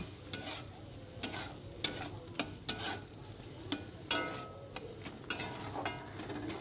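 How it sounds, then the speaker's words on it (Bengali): Boiled peas being stirred in a frying pan, with steady sizzling underneath and a string of crisp spoon scrapes and knocks against the pan at irregular intervals. "মটর দেওয়ার পর আবার একটু ভালো করে নাড়াচাড়া করে নেব"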